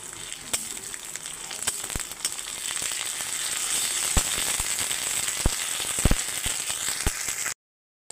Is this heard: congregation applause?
no